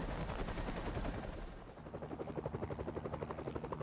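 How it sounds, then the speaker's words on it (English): Helicopter in the Spider-Man PS4 game, a rapid rhythmic rotor chop that emerges clearly after a burst of busy action noise, steady and fairly close, with no talk over it. "Oh man, they got a chopper."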